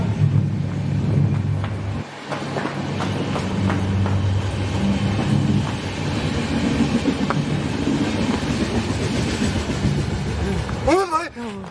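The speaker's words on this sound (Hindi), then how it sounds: "ट्रेन की आवाज है। ट्रेन जा रही है शायद ऊपर से।" A train rumbles past overhead with a continuous heavy rolling roar and rattling wagons, loud and near, while people talk underneath.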